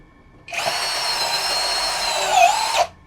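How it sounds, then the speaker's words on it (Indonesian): An HL 812 V2 16V cordless impact drill runs in drilling mode at speed 2, a close, steady high-pitched motor whine lasting about two seconds with a slight pitch dip near the end before it stops. "Speed 2, kalau saya sukanya pakai mode drilling aja guys"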